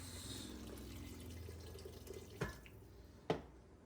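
Faint boiling water pours steadily into a pot of soup, with a couple of louder splashes or drips near the end. No one speaks.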